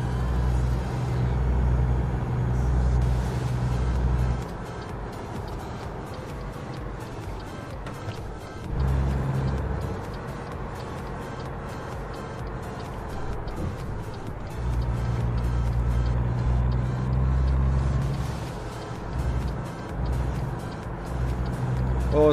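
A truck in a driving video game gives a heavy, close engine drone that steps up and down as the revs change, running loud and continuous throughout.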